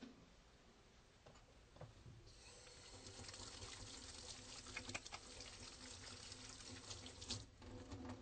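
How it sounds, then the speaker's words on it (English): A sink tap runs steadily, swelling as hands are washed under the stream, with faint splashing and small clinks, quiet and close in an exam room. "let me go ahead and wash my hands since the examination's over"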